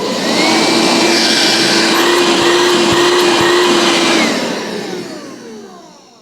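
A Bosch Serie 2 Readyy'y 20V cordless stick vacuum running with a steady high whine and airy rush, close and loud, then powering down and fading away.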